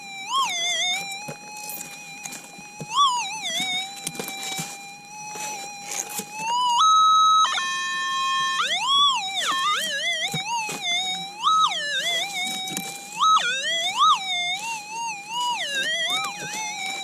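An SDC metal detector sounds a loud, wavering electronic signal over a piece of metal sitting on the ground, with gliding, siren-like warbling tones and a brief stepped burst partway through, all continuous and unaccompanied by speech.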